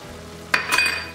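Minced garlic frying in a pan for a spaghetti pie sauce: a low steady sizzle with two quick bright stirring scrapes close by, no talk.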